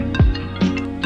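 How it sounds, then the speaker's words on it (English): Timer alarm from an iOS-style clock app running on an Android phone, a brief bright tonal chime of quick repeating blips with gliding pitch, close and clear. "that is our alarm sound for the timer"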